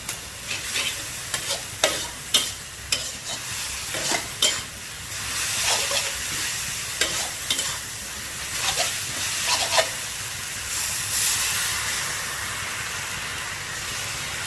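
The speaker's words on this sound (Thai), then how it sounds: "ผัดให้วุ้นเส้นสุก" Glass noodles with cabbage and dark soy sauce are stir-fried in a pan, with a steady sizzle under repeated scraping and tossing strokes of the spatula, loud and close throughout.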